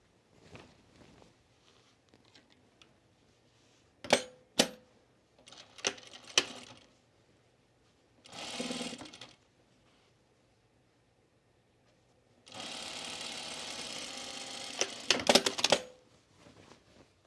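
A sewing machine stitches French seams on a dress, with scattered clicks and taps followed by a short run of stitching and then a longer sustained run, all fairly quiet.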